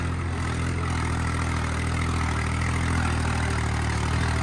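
Tractor engine running steadily at a loud, close, continuous drone with no change in pitch and no voices over it.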